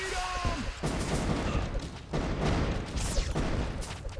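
Rapid missile launches and blasts from towers in the tower-defense game Kingdom Rush Frontiers, a dense barrage of bursts and booms overlapping continuously at steady loudness.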